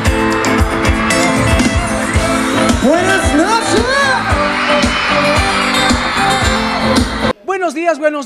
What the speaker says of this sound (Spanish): Cuando yo diga mujeres, ustedes me regalan un grito de histeria bien fuerte.